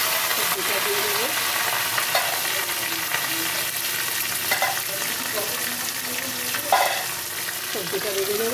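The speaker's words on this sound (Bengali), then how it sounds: "সবজিটা ভেজে নেব।" Bottle gourd greens, lightly steamed, fry in oil with black cumin seeds and dried red chillies in a pan, a steady loud sizzle with occasional scrapes and clinks of stirring, no talking.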